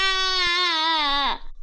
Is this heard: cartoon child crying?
yes